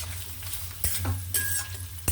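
Something frying in coconut ghee sizzles softly in a pan, with a few brief stirring scrapes and taps, close and moderate in level, no talk.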